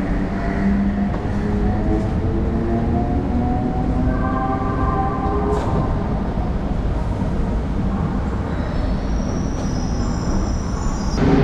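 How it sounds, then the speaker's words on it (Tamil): Chennai suburban train pulling out of Velachery station, a loud steady rumble of wheels and carriages with faint squealing tones rising and fading over it, continuous and close throughout. "இப்போ வேளச்சேரி ஸ்டேஷன்ல இருந்து ட்ரெயின் ஸ்டார்ட் ஆயிடுச்சுங்க."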